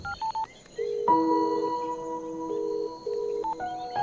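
A mobile phone dials a call: a quick series of keypad tones, then a sustained, steady two-level dialing tone running throughout, with more keypad beeps at the end.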